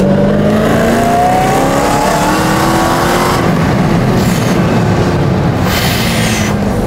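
A Dodge Hellcat accelerates hard out of a roundabout, its supercharger whine rising over a loud, continuous close-up engine roar that swells steadily throughout.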